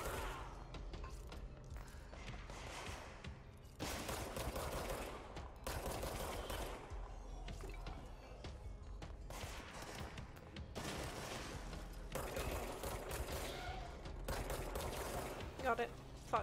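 Bursts of gunfire crackle through a firefight in the video game Control, coming in dense volleys with short breaks between them, loud and sustained over steady low game rumble.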